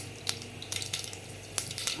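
Scattered sharp pops and crackles of mustard seeds spluttering in hot oil, a few bursts spaced irregularly over a steady sizzle.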